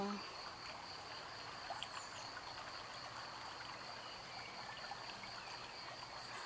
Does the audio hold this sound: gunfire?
no